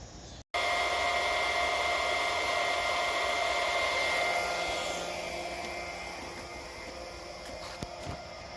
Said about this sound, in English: I started the pump up